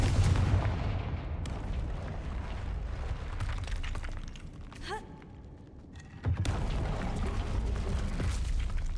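Fire spell explosions in the Hogwarts Legacy video game: heavy booming blasts with rumbling tails, a quieter dip in the middle, then another loud impact that carries on to the end.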